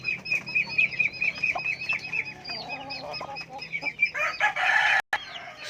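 Close, busy clucking and chirping from a hen with her chick, a rapid run of repeated calls that swells louder toward the end and breaks off briefly.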